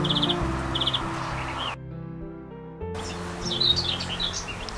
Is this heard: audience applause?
no